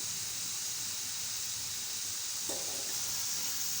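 Homemade french fries frying in hot oil, a steady, even sizzle and hiss that carries on unbroken throughout with no voices.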